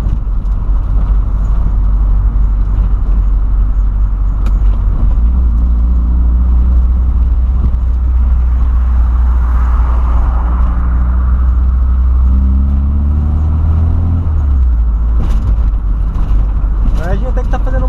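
Volkswagen Voyage driving along a city avenue at night, a loud steady engine drone and road rumble throughout, rising in pitch as it accelerates near the end.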